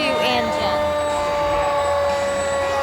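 A 2009 Seagrave rescue fire engine in a July 4th parade sounds a steady wailing siren with a sustained tone, loud and close, while a voice talks over it amid street noise.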